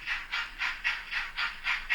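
Rhythmic chuffing hiss repeating about every quarter second, a model steam locomotive running around the inner loop of a model railway, fairly quiet and even.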